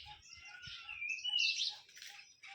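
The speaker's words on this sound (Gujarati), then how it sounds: "મોરલા બોલે મોરલા" Peacocks call faintly from the distance across open farm fields, a few thin, rising cries drifting over otherwise quiet surroundings.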